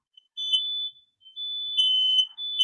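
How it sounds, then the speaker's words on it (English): An indoor fire alarm shrills in long piercing high-pitched blasts, three sustained tones with brief gaps, loud and with no voices over it. "Oh, fire alarm's going on."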